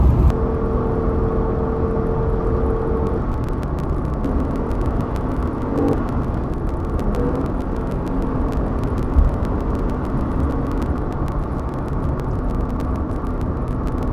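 A Jeep Gladiator tows a heavy load on a highway at cruise, its cabin filled with a steady loud road and engine roar and whirring wind noise, with no talking.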